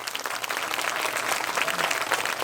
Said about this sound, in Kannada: ಎಲ್ಲರೂ ಜೋರಾಗಿ ಒಂದು ಚಪ್ಪಾಳೆ ಹೊಡಿರಿ